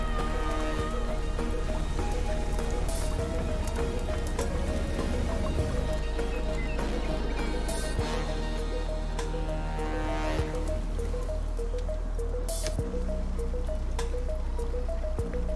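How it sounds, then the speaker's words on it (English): Steady rain falls in the city-building game Endzone - A World Apart, a dense continuous patter layered over soft game music and ambient tones throughout. "I like the rain effect."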